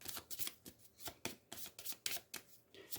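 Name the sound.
shuffling a terror deck of board game cards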